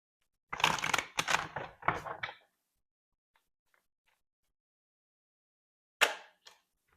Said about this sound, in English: Now let's get more tarot cards out for you.